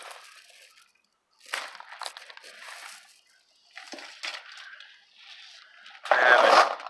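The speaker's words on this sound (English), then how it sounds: "These are vintage glass beads." Vintage glass beads are handled in bursts, giving crisp clinking and rustling clatters that come and go in several short bouts, the last burst loudest and closest.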